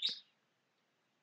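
A pet bird in The Sims 4 video game gives one short, bright chirp at the very start, followed by near silence.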